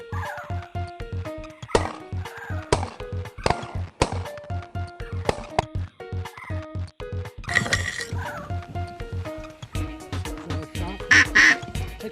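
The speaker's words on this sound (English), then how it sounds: "He'll get you right on these ducks." Ducks quacking on small winter water during a duck hunt, a long run of loud, nasal quacks in quick rhythmic series, with a few brief sharp clinks mixed in.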